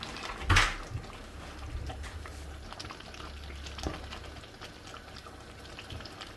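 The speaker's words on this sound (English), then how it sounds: "I have to stir it first." A pot of spinach soup with crayfish is stirred, giving a soft bubbling simmer with a thump of the spoon against the pot near the start and faint scraping after.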